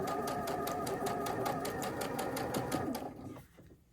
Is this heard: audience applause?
no